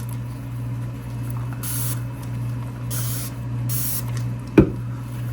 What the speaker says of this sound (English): So I'm just going to spray.